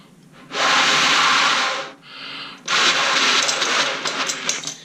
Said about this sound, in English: you can go blow a little bit of air. It should sound like this.